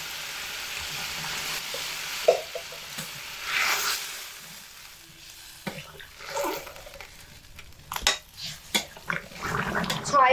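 Hot water poured into a pan of potatoes and eggplant frying for a fish curry, a loud close rushing sizzle that settles into gentler bubbling with a few sharp spatula knocks.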